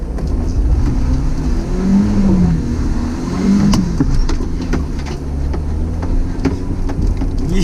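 A Kei truck with a 4-cylinder engine climbing a slickrock hill off-road, its engine droning steadily and rising and falling with throttle over rough rumbling, loud and close with no talk.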